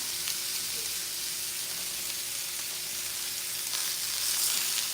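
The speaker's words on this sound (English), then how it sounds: "I'm gonna sear the meat" Meat searing in a hot pan for a deep golden-brown crust, a continuous even hiss of sizzling heard up close with no voices.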